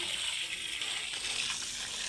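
Water gushes and flows steadily out of a pit nearby, a continuous rushing wash of sound.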